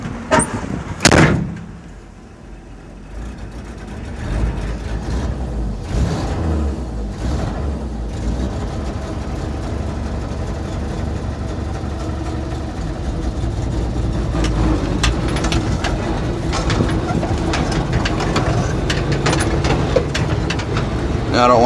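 A 1964 Chevy, running poorly after a cold start, rumbles as it pulls away. A door slams shut first, then a steady engine drone builds, with someone talking briefly over it.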